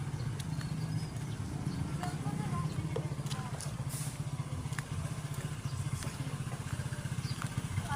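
Motorcycle with freshly changed oil running on a test ride, its steady engine drone continuous and fairly loud throughout.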